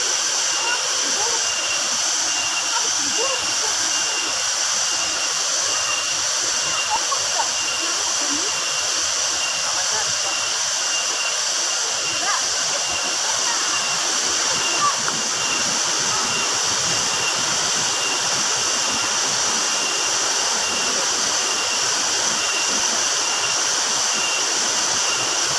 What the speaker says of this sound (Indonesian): Yang ditunggu-tunggu air terjun di Gunung Bromo, daerah Jawa Timur